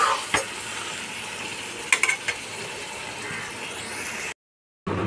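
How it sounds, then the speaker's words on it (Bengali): Loitta (Bombay duck) fish is stirred gently in a frying pan: a steady sizzle of frying with a few sharp utensil clinks against the pan, then a brief silent gap before the sizzle returns. "দেখো, এটা কিন্তু বেশি নাড়বো না, আমি আস্তে আস্তে এরকম নেড়ে দেবো"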